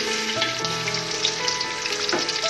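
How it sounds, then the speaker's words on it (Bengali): Onions sizzle and crackle steadily in hot oil in a pan, a dense, continuous frying hiss with no talk, close and even throughout. "পেঁয়াজটা আমি ভেজে কিছুটা পেঁয়াজ রেখে দিব"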